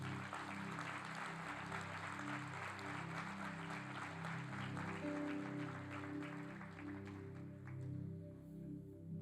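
Congregation in a church applauding with sustained, dense clapping over strong low organ or keyboard chords, the clapping thinning toward the end while the music continues.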